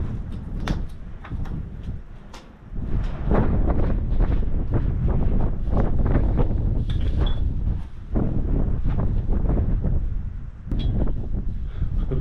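Steady gusty wind buffets the microphone, a loud broadband rumble with sharp bursts and brief lulls, no voices.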